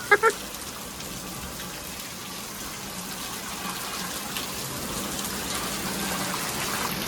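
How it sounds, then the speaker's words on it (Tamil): Steady rain hisses continuously, a dense even wash of falling water after a couple of short sharp sounds at the start. "ரொம்ப நாள் கழித்து மழை பெய்யுது. நல்ல மழை,"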